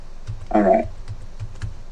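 Several people type on computer keyboards in a room, a brief dense burst of clicking standing out over faint background murmur.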